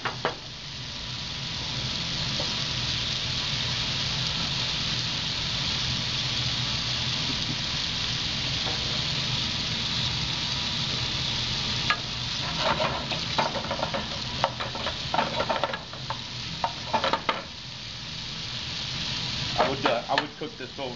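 Ham browning over high heat in a pan gives off a steady, moderate sizzle that runs throughout, with occasional light scrapes and clicks of stirring breaking in toward the end.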